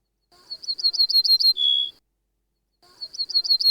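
A wild bird sings in a cleaned-up outdoor field recording, free of clicks: a quick trilled phrase ending in a sustained whistled note, a pause, then the trill starting again, clear and close against silence.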